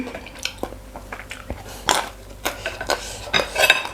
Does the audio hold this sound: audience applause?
no